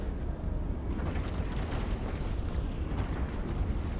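Ship turrets fire in the space game EVE Online, giving a dense, rumbling barrage of booming blasts and bursts that rolls continuously at moderate volume.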